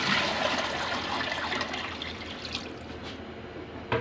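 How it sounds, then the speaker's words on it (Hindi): Water poured from a glass into a pot of fried lentils for khichdi, a soft steady splashing and trickling that fades slightly, quiet and close with no talk. "अब हम इसमें पानी डालेंगे।"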